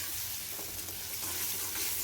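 Onion and tomato sauté in oil in a pan, giving a continuous, even frying hiss close up with faint stirring scrapes and no talking.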